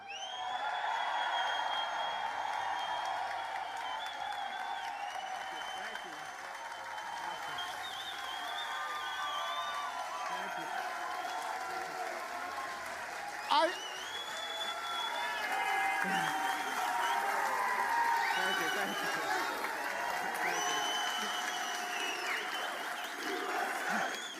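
A large crowd applauds and cheers at an arm wrestling match, a steady, dense roar that holds for the whole stretch with one sharp clap-like spike partway through.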